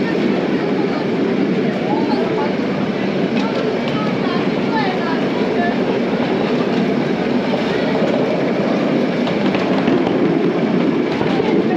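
A toy train ride at the National Rail Museum in Delhi gives a steady, loud rumble of wheels and carriage noise from on board, with continuous rattling and clatter throughout and no pauses.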